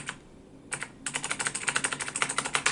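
Keys on a Razer BlackWidow 2014 mechanical keyboard are pressed in a steady, fast run of sharp, close clicks after a brief pause, with no talking over them.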